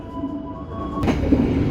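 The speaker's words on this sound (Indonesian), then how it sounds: "Baru saja kereta api Tegal Bahari melanjutkan perjalanan dari stasiun Jatibarang." Tegal Bahari passenger train departing Jatibarang station in Indonesia: a loud, close rumble of moving rail cars with a brief screech partway through, then steady clatter.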